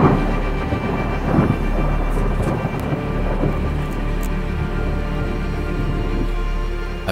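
Heavy rain from a supercell thunderstorm falls steadily while deep thunder rumbles and rolls continuously underneath, with a few sharp drips and taps standing out.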